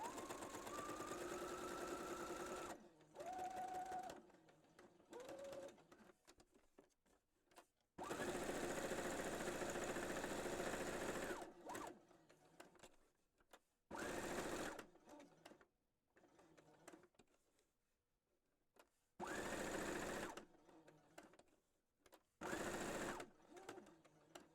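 A domestic sewing machine runs a straight stitch in repeated bursts of steady mechanical whirring, each run a few seconds long and separated by short pauses, close and fairly loud in a quiet room.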